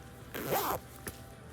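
A zipper on the outside front pocket of a small floral-lined bag slides open in one quick, close rasp, followed by a brief faint click.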